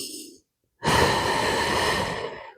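A single long exhale, loud and close, follows a brief softer breath and a short pause, paced breathing during a Pilates exercise of pointing and flexing the feet.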